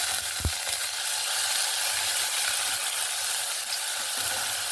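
Onion paste goes into a pan of fried crushed garlic and green chillies, which sizzle loudly and steadily throughout, with one brief knock near the start.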